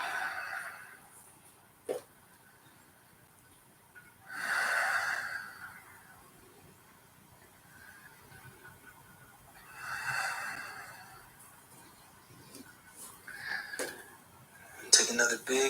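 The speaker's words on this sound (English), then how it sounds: "Listening to your breath" Slow, deep breaths during a power yoga practice, each long inhale or exhale rising as a soft airy swell and fading, spaced several seconds apart, with a brief sniff and faint clinks in a quiet room.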